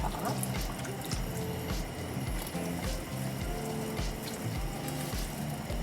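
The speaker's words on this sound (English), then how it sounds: "We're just going to add a little beef broth just on top." Beef broth poured into a pot for rouladen, a close, steady splashing and gurgling stream of liquid with a faint pulsing rhythm, heard alone.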